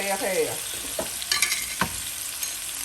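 Shrimp and cauliflower rice with cumin stir-fry in a hot pan, with a steady close sizzle and scraping stirs and clinks of a utensil against the pan.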